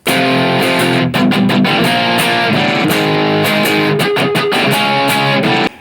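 Distorted electric guitar power chords from a song, played loud and dense in a continuous rhythmic strum with brief choked gaps between chord hits, no voices present.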